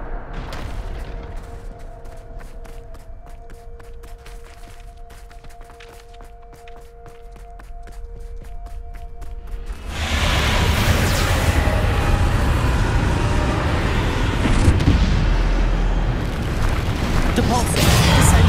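Heavy explosive blasts from the Bombarda spell in Hogwarts Legacy, a dense rumbling barrage filling the second half after quieter footsteps and a steady tone, with a voice calling out spells.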